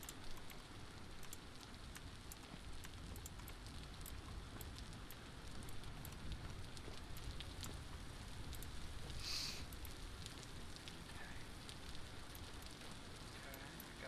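Steady rain falling in the Vintage Story video game, a dense continuous patter with faint scattered drops, holding even across the stretch while someone talks quietly over it.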